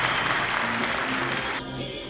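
Theatre audience breaking into thunderous applause at a New Year's performance in Pyongyang, a dense continuous roar of clapping that is suddenly cut short near the end.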